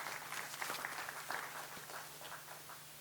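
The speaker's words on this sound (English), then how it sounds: "Let us give him another round of applause." Applause from an audience at a farmers' business school launch event in Nigeria: dense, continuous clapping, faint and distant, lasting the whole moment.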